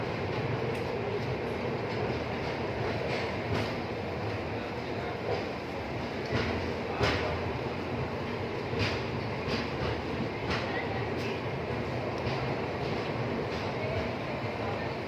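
A Nauchandi Express passenger train from Bareilly to Prayagraj rolls along railway tracks in India with steady rumbling, rhythmic wheel clatter and occasional sharp clicks, close and continuous, with voices faintly beneath.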